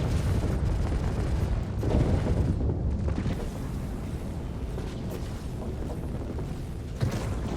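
In the Star Citizen video game, an Origin M80 ship fires its weapons and a Gladius is destroyed, heard as a dense, continuous roar of booming blasts and rumbling explosions that holds loud throughout, with a brief sharper burst near the end.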